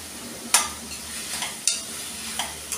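Onion frying in a little oil over a low flame, a soft continuous sizzle broken by a few sharp clinks and scrapes of a spoon against the pan.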